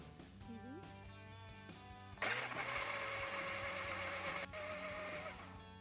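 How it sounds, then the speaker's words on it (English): Small blender pureeing kiwi in short whirring bursts, then running continuously with a louder high-pitched buzzing whir, close and fairly quiet, no talking. "Now I'm going to quickly puree"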